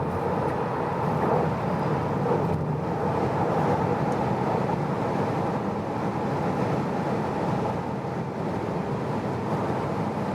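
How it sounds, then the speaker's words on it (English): A Tesla Model 3 Long Range accelerates hard on a German autobahn from 30 km/h, with a steady, loud roar of road and wind noise filling the cabin and no one talking. "So we're accelerating from 30 kilometers an hour"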